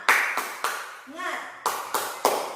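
A classroom group performs a 'tepuk semangat' spirit clap: three crisp claps, a short sung vocal call, then three more claps, close and evenly spaced.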